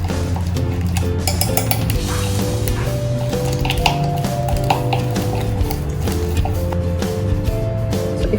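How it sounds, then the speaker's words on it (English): Salad dressing with chaat masala is whisked in a bowl, with quick rapid clinks and wet squishing that repeat steadily and close, over a continuous musical background with no speech. "So whisk the ingredients well."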